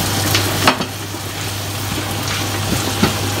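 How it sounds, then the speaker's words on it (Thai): Sliced hot dogs stir-frying with onion in a hot pan, a constant close sizzle with a few sharp clatters from stirring and a low steady hum underneath, without speech. "แล้วเฮาก็สิเอาไปผัดใส่กับหอมหัวใหญ่"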